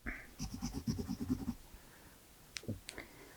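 An orange pencil colours a drawing of a cartoon character's feet in quick, rhythmic scratchy strokes for about a second and a half, then falls quiet except for a couple of small taps.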